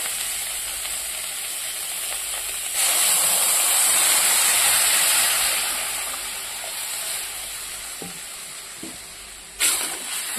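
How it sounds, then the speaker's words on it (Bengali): Water pours into a pan of sautéed vegetables and hisses in a loud, sustained sizzle that gradually settles, with a sharp clatter near the end. "এবার আমি জল দিয়ে দেবো।"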